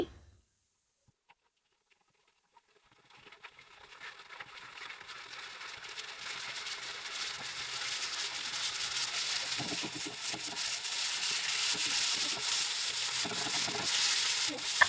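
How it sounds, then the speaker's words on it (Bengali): Nola fish fry in hot oil in a pan, a steady crackling sizzle that starts after a few quiet seconds and builds to a dense, even hiss close by. "এখন মাছগুলোকে ভেজে নিচ্ছি"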